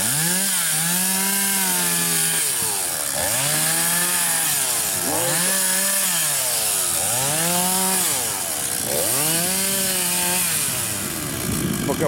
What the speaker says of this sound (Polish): Po gwoździach piłować to nie warto.